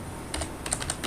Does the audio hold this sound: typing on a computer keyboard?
yes